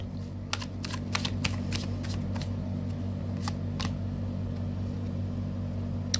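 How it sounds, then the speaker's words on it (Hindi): Tarot cards being shuffled close up, a run of crisp riffling flutters in quick bursts over a steady low background hum. "Last shuffle."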